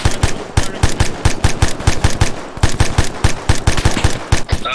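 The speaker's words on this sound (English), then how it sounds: "I could use some fucking covering fire." Rapid bursts of machine gun fire from ArmA 3 gameplay, loud and close, sharp repeated shots in uneven volleys running steadily throughout with no pause.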